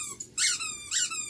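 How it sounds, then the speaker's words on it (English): A dog chews a squeaky donut toy, producing two shrill squeaks in quick succession, close and loud. "Tonka's got the squeaky donut."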